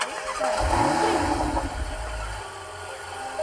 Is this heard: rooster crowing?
no